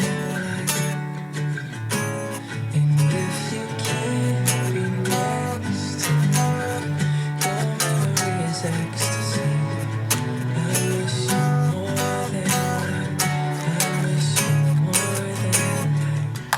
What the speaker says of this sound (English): You can hear the guitar in the background.